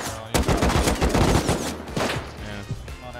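Rapid automatic gunfire in the video game Rust comes as a fast, loud rattle of shots in quick succession. A short burst and a few spaced shots follow.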